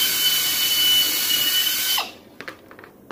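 A power drill bores holes for 1/8 rivets with a 1/8 bit, a loud, steady high-pitched whine for about two seconds that then cuts off, followed by a few faint clicks and handling sounds.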